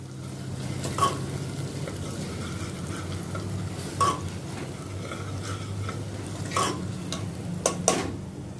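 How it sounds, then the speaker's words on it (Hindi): Onions with red chili and cumin powder sauté in a pan under a soft, steady sizzle, broken by a few sharp spoon taps and scrapes as they are stirred. "इनको भी अनियन के साथ अच्छी तरह से मिक्स करती हूँ ताकि सभी मसालों का कच्चापन निकल जाए।"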